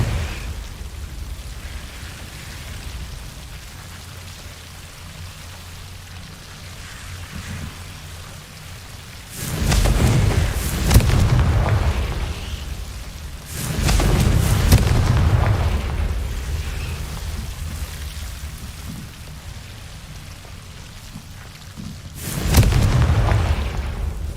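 Confringo and Incendio spell explosions go off in the Hogwarts Legacy video game: several heavy booming bursts, each several seconds long, separated by a steady rushing background rumble.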